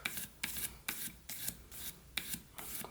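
A whittling knife edge is drawn repeatedly across a sharpening surface to refine a fine burr, giving soft, close rasping strokes in a steady rhythm of about two per second, faint and with no talking.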